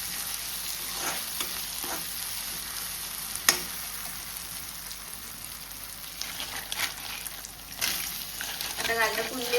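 Chopped green chillies fry in a pan for Goan-style crab sukha, a steady close sizzle with occasional pops and stirring scrapes.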